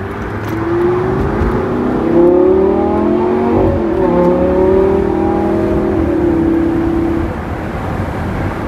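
A Lamborghini Gallardo Performante LP 570-4 Spyder V10 revs hard and close, its engine note rising and falling in sweeping runs for several seconds before easing off, loud and alone without any voices.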